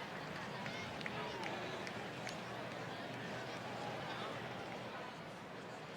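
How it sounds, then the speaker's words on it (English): A baseball crowd roars at a game, a dense, even wash of cheering and noise that holds steady throughout at a moderate distance. "And the crowd is wild."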